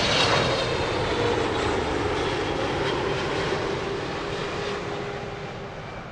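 An Air Canada airliner landing on runway 09 left at Heathrow gives a loud, steady broadband engine roar that fades slightly over about six seconds, with no voices.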